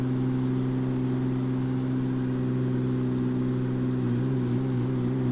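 A Marchetti SF260 aircraft engine in a flight simulator drones steadily and close, a constant low hum with a slight wobble in pitch near the end.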